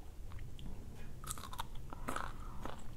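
Ripe mango dipped in sweet fish sauce being chewed close up, with soft crunchy bites and wet mastication sounds scattered over about three seconds, no talking.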